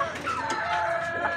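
An egg-laying hen clucks steadily up close, a run of soft, drawn-out calls with faint background noise.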